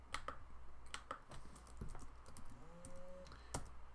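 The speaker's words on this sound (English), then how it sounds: "you have to type in Greek" Quiet, close computer keyboard typing of Greek text, scattered irregular key clicks with a soft background hum and no talking.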